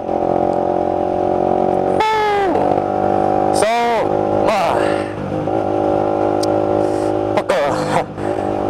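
A Honda CBR 150 motorcycle fitted with an aftermarket exhaust runs close by, its engine droning and rising through several sharp revs and gear changes while a rider talks over it.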